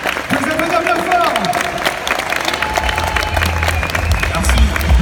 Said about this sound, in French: On les applaudir bien fort.